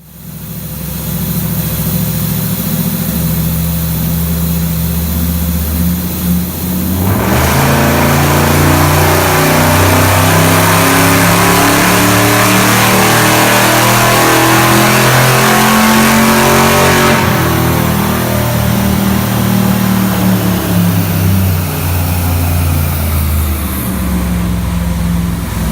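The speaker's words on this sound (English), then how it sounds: "This is an old school Chevy 350, naturally aspirated, carbureted," A carbureted, naturally aspirated old Chevy 350 farm truck engine roars loud and close on a dyno, climbing into a long sustained high-rev pull before dropping back to a rough idle.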